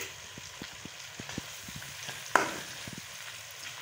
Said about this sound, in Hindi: अदरक और लहसुन को जो है ना फ्राई कर रहे हैं, भून रहे हैं